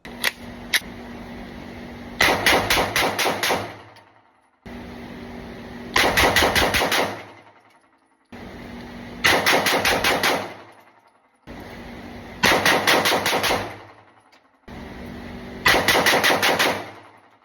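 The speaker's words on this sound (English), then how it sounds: "Bill drills." Walther PDP Full Size pistol firing Bill drills: five quick bursts of about six loud shots each, separated by short pauses of a second or two, crisp and close, with no talking.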